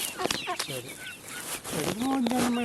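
Black Karinkozhi hens and a rooster cluck and call close by in a backyard coop, with voices talking over the birds.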